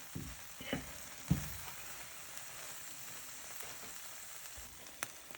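Vegetables for lemon pepper tacos frying in a pan, a faint continuous sizzle with a few sharper pops and clatters near the start, no talking.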